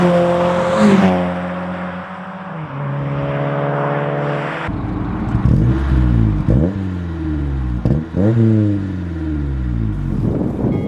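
Loud car exhaust from a catback system with high-flow resonators and mufflers, revving up and down in repeated surges, with a sharp rise midway and steady throttle blips.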